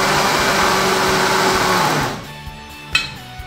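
A blender whirs loudly while mixing chicken pie batter with salt and baking powder, running steadily for about two seconds before spinning down, followed by a few light clunks as the jar settles.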